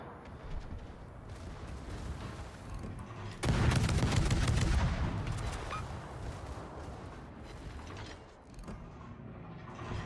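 Secondary guns on a warship open fire in World of Warships, a sudden loud burst of rapid overlapping booms and rumbling that surges, holds for a couple of seconds, then tapers into a steady background roar of continuing gunfire.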